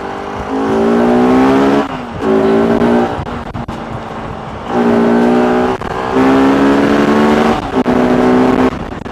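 Bajaj Pulsar RS 200 motorcycle engine revved hard in repeated bursts, rising and falling with short idle gaps between, loud and close with no talking.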